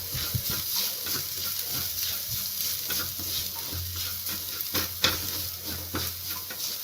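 Ground spices (chilli, coriander, cumin, garam masala and turmeric) sauté in a pan for a potato and maida dish, giving a steady soft sizzle with scraping stir strokes and a few louder clinks.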